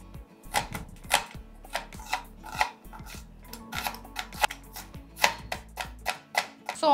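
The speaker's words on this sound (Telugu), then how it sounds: "సో ఆనియన్ ఫస్ట్ మనం సన్నగా కట్ చేసుకుందాం." A knife chops onion finely on a cutting board in quick, irregular strokes, each cut a sharp, close knock, steady through the whole stretch with no talking.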